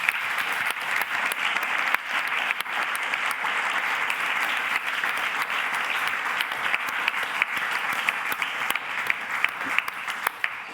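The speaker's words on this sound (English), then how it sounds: "Please give them a warm round of applause." Conference audience at a science summit applauding three panelists, a dense, sustained round of many hands clapping with sharp individual claps standing out, steady and fairly loud for the full stretch.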